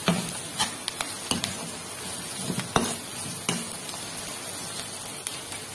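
Crushed white onions fry in a pan for a dried-fish thokku, a soft continuous sizzle broken by sharp stirring scrapes and taps at irregular moments, close and moderately loud.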